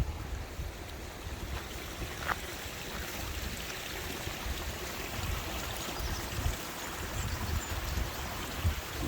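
Mountain stream in Snowdonia rushing downhill into Llyn Idwal, a steady broadband wash of flowing water with low rumbling churn, continuous and close, no voices.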